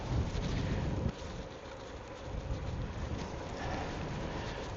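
Steady wind roars across the microphone while cycling on Dartmoor along the route from Plymouth to Tavistock. It is louder in the first second, then settles into a constant rushing buffet with no speech.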